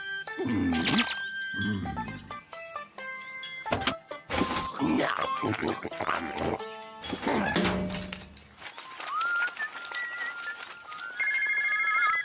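A cartoon telephone rings amid bouncy thumps and sound effects. The bright electronic ring repeats near the end, close and clear.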